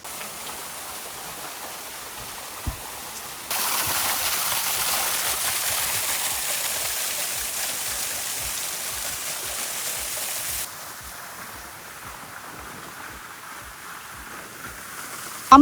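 Monsoon rain falls in Mahabaleshwar as a continuous broadband hiss that grows heavier for several seconds and then eases back, with faint regular low thumps beneath and no speech.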